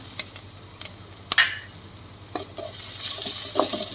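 Onions sautéing in a pan for basket chaat puri give a soft, faint sizzle with light scraping and stirring clicks from a utensil against the pan, growing slightly louder toward the end.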